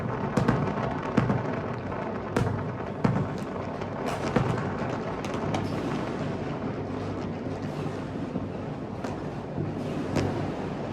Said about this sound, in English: The fireworks were just all around us.